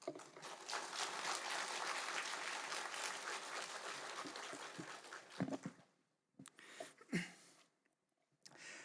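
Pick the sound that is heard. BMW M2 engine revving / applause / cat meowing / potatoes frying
applause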